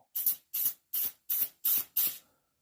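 Six rhythmic, evenly spaced bursts of hissing spray from a Harbor Freight pneumatic grease gun pumping out grease during toy hauler trailer maintenance, each short and sharp, with a clean stop between pulses and nothing after.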